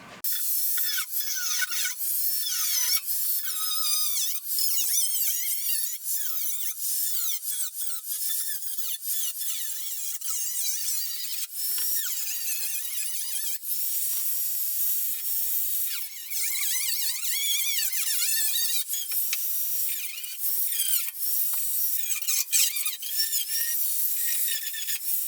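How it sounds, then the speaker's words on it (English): An angle grinder cuts into the metal of a Porsche 914 quarter panel with a continuous high, harsh whine that wavers and squeals steadily throughout, recorded close up with no voices. "I'm just going to take an angle grinder and start cutting that guy out."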